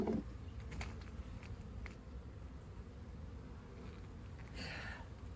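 Honeybees hum steadily at an open beehive during an inspection, a continuous close buzz with a louder swell from a bee passing near the end.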